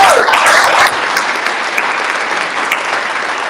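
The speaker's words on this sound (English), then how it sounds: "So give him a round of applause." Loud audience applause at a campaign launch event, a thick burst of clapping that is strongest at the start and then settles to a steady, slightly softer patter.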